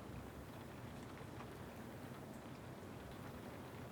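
Rain falls steadily, a soft, even hiss of drops that stays faint and unbroken throughout, with no voices over it.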